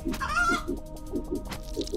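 Sheep enemies in the Turnip Boy video game let out short, repeated bleats in quick bursts over a steady game soundtrack.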